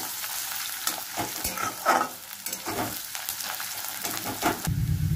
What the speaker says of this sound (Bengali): রসুনটাও ভাজবো।